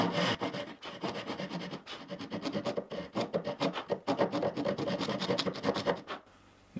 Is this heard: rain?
no